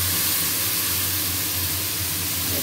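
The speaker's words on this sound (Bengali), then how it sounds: "পেঁয়াজ ভালো করে ভাজা হয়ে গেছে। এতে আছে আদা, জিরে, নুন, হলুদ, হচ্ছে রসুন সব একসঙ্গে দিয়ে" Onions frying in a pan with ginger, cumin, salt, turmeric and garlic, giving a steady, loud, close hiss that holds even throughout with no talking.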